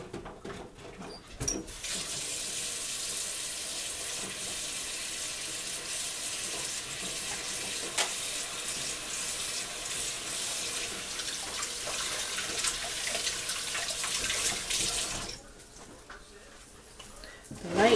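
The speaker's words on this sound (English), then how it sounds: "I'll wash my hands." Tap water runs steadily into a kitchen sink while hands are washed, a broad continuous hiss lasting most of the time before cutting off near the end; close, with faint voice sounds at times.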